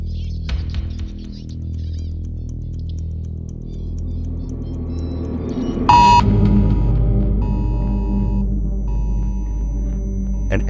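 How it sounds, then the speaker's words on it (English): An Amber Alert emergency tone sounds on an iPhone through AirPods, a sudden sharp tonal burst that rings on loudly after a low rumbling background. "An Amber Alert pings BG's phone."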